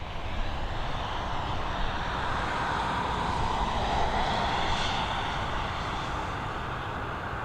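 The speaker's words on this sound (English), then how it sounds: "our next arrival, another 737 operated by Ryanair" Ryanair Boeing 737 jet arriving at Dublin Airport, a steady loud broadband engine roar holding for several seconds with a slight swell in the middle, no talking.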